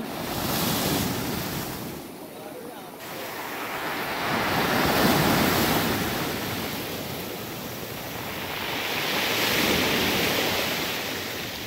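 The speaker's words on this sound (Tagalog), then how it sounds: "Ang lalaki ng alon." Big ocean waves crashing and washing ashore at night at Dela Paz, Batangas City, a continuous loud surging roar rising and falling in slow swells with wind buffeting the microphone.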